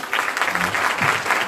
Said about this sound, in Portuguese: Muitas palmas,